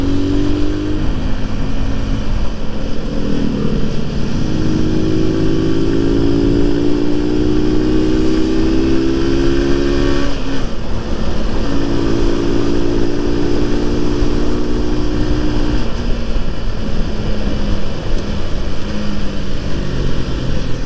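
A bigger motorcycle passes a Honda CBR150R (2011, Thai-built) on a road toward Puncak, its engine revving with rising and falling pitch over the steady drone and wind noise of the riding bike.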